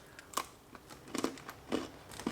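Crunchy biscuit snack with a very thin chocolate glaze being bitten and chewed up close, several crisp crunching bursts spaced through a quiet moment.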